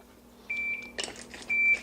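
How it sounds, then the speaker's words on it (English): A kitchen timer beeps twice during home cooking of a chickpea and red lentil curry, sounding as two sharp, steady electronic tones with some clattering between them. "There's the timer."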